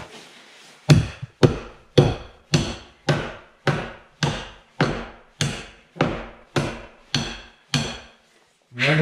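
A hammer knocks rhythmically against wooden skirting boards during renovation, about a dozen sharp, evenly spaced strikes close by with short ringing decays, no voices.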